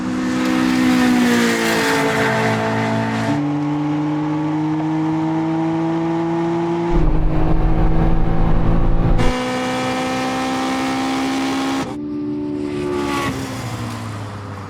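Cars in a drag race revving and accelerating hard, loud engine notes climbing through the gears in long held pulls, with abrupt shifts and a brief burst of deep rumble midway.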